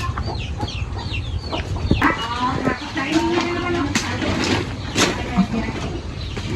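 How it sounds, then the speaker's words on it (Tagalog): Chickens clucking nearby, with a short crow-like call, over steady background noise while people talk. "Uy, manok."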